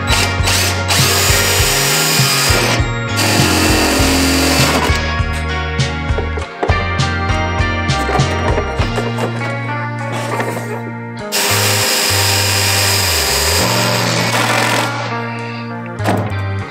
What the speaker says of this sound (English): Just gonna have to drill right into it